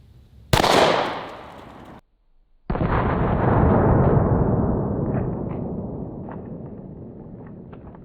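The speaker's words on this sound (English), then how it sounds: "we're shooting this one out of the Glock 20" A single loud gunshot from a 10mm Glock 20 pistol fired outdoors at a watermelon, a sharp close blast followed after a short gap by a long rumbling echo that slowly fades.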